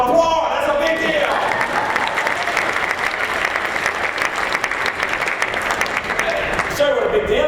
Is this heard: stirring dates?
no